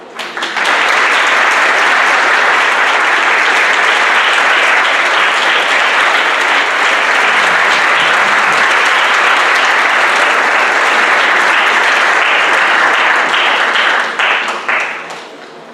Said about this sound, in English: receive a round of applause